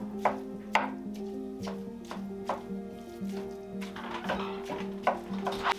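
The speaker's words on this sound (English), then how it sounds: "I'm just kind of breaking up the ground beef a little bit and adding in the onions" Ground beef gets broken up in a skillet with a spatula, giving repeated sharp scraping taps against the pan at an uneven rhythm over a low sizzle, close and moderately loud.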